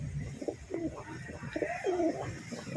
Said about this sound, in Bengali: এই যে নর পায়রাটা মাদি পায়রাকে দেখে ঠিক আছে এই যে ডাক করছিল একটু আগে